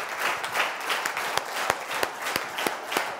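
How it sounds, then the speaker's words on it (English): An indoor audience at a leadership training camp in Siófok gives sustained applause as a speaker comes on stage, a dense patter of many hands with a few sharper claps standing out. "Let the claps go on."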